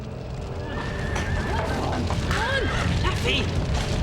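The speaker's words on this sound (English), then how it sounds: "As Rose continued to struggle with the frightened horses, Rosina arrived, terrified that her pony was" Several frightened horses whinny and neigh amid a busy, noisy scene, with hoof clatter and rumbling crashes beneath; the calls overlap at moderate distance.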